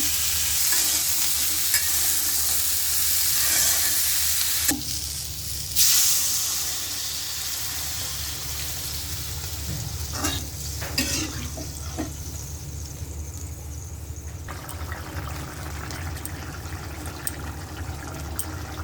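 Cumin seeds sizzle and hiss steadily in hot oil in a pan, close and constant, with occasional stirring scrapes and clinks over the frying.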